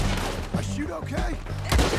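Gunfire in the western game Red Dead Redemption 2, scattered shots with a sharper crack near the end, mixed under voices talking.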